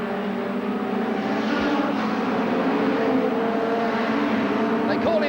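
Hot rod race cars roar around a track at the 1985–1986 Hot Rod World Finals, a steady engine drone with a rise and fall in pitch, while a commentator talks over it.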